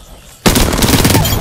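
Near silence suddenly breaks into a loud burst of sustained automatic fire in the battle royale shooter Apex Legends, rattling on steadily to the end.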